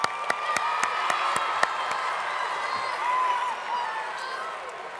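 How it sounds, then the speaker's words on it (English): A crowd at a campaign speech event applauds, the clapping steady and moderately loud throughout with a few sharper individual claps near the start. "You can clap for that."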